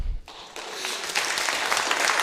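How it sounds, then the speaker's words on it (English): An audience at a public planning meeting breaks into applause that swells quickly into a sustained, broad wash of clapping from a room full of people. "Again, I'll ask you to hold your applause."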